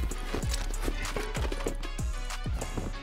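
A horse gallops in the survival game Rust, its hooves thudding in a steady, rapid rhythm of repeated clip-clop beats, close and fairly loud against a constant game background.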